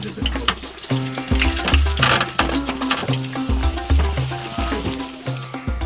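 Bosnian ustipci, pieces of thin bread dough, fry in hot oil in the village of Lukomir with a loud, close, busy sizzle and crackle, over rhythmic background music.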